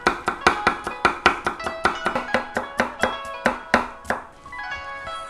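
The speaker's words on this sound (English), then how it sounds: "Slice thinly and stack them together and press hard" A knife thinly slices a cucumber on a cutting board, about twenty quick, evenly spaced, crisp strikes close up with no talk, ending in a short ringing tail.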